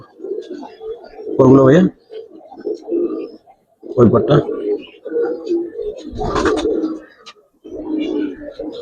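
Giribaz and Pankhi pigeons coo in soft, repeated bursts close by, partly under someone talking throughout.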